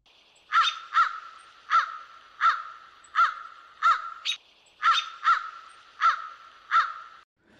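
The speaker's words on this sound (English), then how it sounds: "Someone spilled a bag of popcorn at Victoria Key, and the crows are feasting" Crows caw in a steady series of about ten harsh calls, close and loud with no other sound, while feasting on spilled popcorn at Victoria Key on Vancouver Island, a family group with a young one begging.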